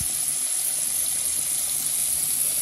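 Hot water runs steadily from a hotel tap, a constant loud hiss and rush that stays even from start to finish.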